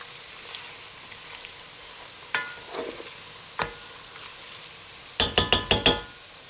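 Beef fat renders into tallow in a pan, a faint steady sizzle broken by sharp utensil knocks and scrapes, ending in a quick run of five metallic clinks.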